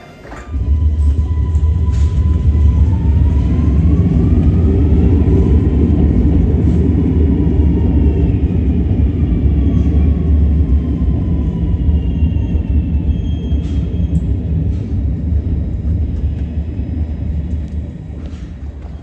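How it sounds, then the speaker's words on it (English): Steady low rumble of a smooth-running light rail train in Montreal from inside the car, with faint high whines and occasional light clicks, no talking. "the train was so quiet, so smooth"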